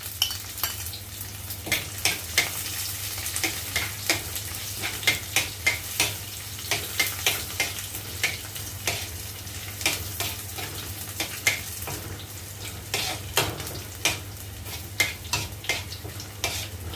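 Shallots, dried red chilies and curry leaves fry in oil for a Kerala-style thoran, with a constant sizzle under repeated sharp scrapes and taps of a spoon stirring the pan in an uneven rhythm.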